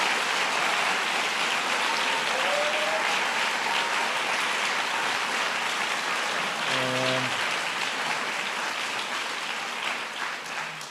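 An audience applauds at a White House event, with dense, sustained clapping across the whole stretch, holding steady and then easing slightly toward the end. A brief tonal sound cuts in partway through.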